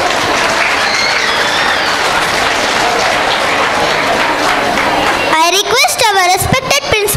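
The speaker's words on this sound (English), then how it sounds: "Give a huge round of applause." An audience claps loudly and steadily at a school's Grade 1 and 2 annual cultural day, dense applause filling the hall before a voice begins speaking over the fading end.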